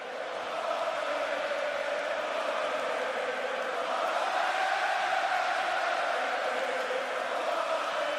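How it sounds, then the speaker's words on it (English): Wrestling arena crowd at a Sami Zayn match, a steady roaring chant from a large audience, fairly distant and continuous without a break. "listen to this clip of Sami Zayn with the crowd chanting"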